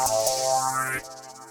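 A bright, buzzy synthesizer chord with a sweeping filter over a low sustained bass tone, cutting off sharply after about a second.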